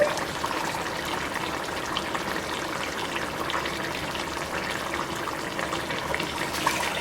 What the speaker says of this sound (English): I'm going to add 3 more cups of water